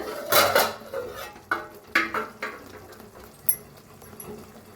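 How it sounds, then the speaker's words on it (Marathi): A plate is taken out in a home kitchen, with a handful of sharp clinks and clatters of dishes and cutlery in short bursts, fairly close, then quieter rattling. "तर काढूया जरा प्लेट"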